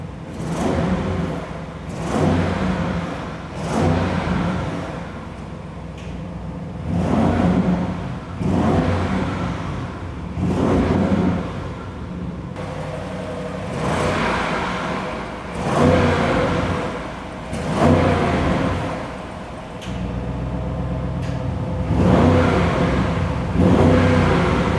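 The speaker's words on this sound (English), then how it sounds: "The OPF back exhaust system on the RS6 GT is specific for the GT and has a little" Repeated engine revs of an Audi RS6 GT with its OPF-back exhaust, deep rumble rising and falling in regular surges every few seconds, close and loud with no talking.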